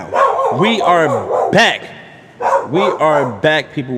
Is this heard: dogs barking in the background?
yes